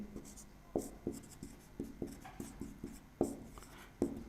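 A pen writing notes on paper: faint, close scratchy strokes in a steady rhythm of about two to three per second, each a soft tap followed by a short scrape, heard alone.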